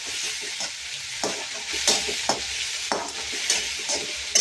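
Onions and tomatoes frying in a pan, a steady hiss of sizzling with repeated spatula scrapes and taps at irregular intervals, close-up with no voices.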